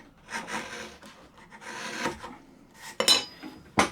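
A sharpened chisel slices into the end grain of wood in a few short rasping strokes, close and crisp, each cut a dry scraping rub, ending with two sharper, brighter scrapes.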